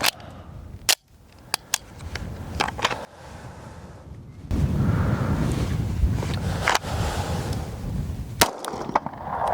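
Sharp reports from a CZ 75 SP-01 Tactical 50th Anniversary pistol fired at 12 yards outdoors: about seven loud cracks in irregular clusters, with wind rumble between them.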